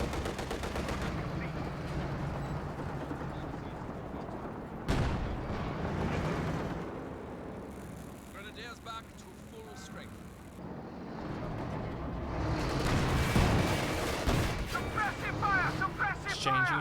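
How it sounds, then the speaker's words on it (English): Gunfire exchange in the Company of Heroes 2 strategy game, with bursts of rifle and machine-gun fire and booming blasts, mixed under continuous commentary from a caster. "Exchanging shots, no harm done."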